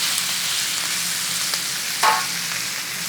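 A steak sears in its own rendered fat in a hot pan, giving a steady, close, hissing sizzle with a brief louder crackle partway through and no talking.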